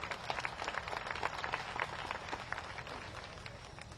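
A crowd at an Indian election rally in Malanpur, Gohad, Bhind district claps steadily, a dense, distant-sounding patter of many hands that gradually thins out, with no voices over it.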